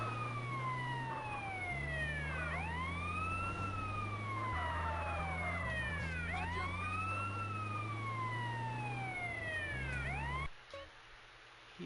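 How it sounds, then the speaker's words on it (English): A police car siren in GTA San Andreas wails in steady rising and falling sweeps over a low engine drone, loud and continuous until it cuts off abruptly near the end. "all I can do now is turn on the sirens"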